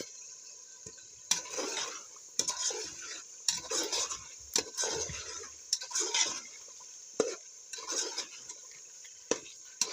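Potatoes being added and stirred in a pot over a firewood fire for chicken and potato biryani, with repeated scraping ladle strokes and clanks against the pot amid a faint hiss.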